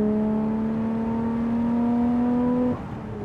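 Nissan R34 GT-R with its RB26 engine, tuned to about 450 horsepower, holding a loud steady high-rpm drone from inside the car that rises slightly in pitch, then drops abruptly near the end.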